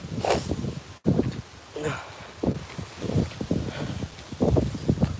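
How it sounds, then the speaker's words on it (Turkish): Gusty wind buffets the microphone outdoors in uneven bursts, a rough rumbling roar that rises and falls throughout. "Rüzgar çok var."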